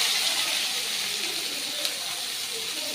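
Chopped onions hit hot oil with popped mustard seeds, giving a steady bright hiss of sizzling that holds even and close throughout without a break.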